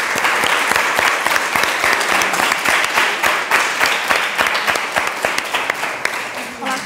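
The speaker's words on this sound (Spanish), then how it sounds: "Un aplauso para Carlos" An audience breaks into loud, close, continuous applause with sharp individual claps standing out, holding steady for several seconds before tapering slightly.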